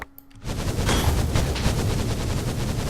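In a modded Minecraft world, a Chaos Dragon's attack hits after a brief quiet moment as a sudden loud, dense barrage of rapid cracks and booms that keeps going without a break.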